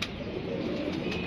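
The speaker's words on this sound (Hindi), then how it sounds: "कबूतर शबूतर खोले हैं ये बच्चे बुच्चे जी 3-4 हमने बाहर निकाले हैं" Soft pigeon cooing, low and murmuring, with a faint chirp, heard briefly against quiet background noise.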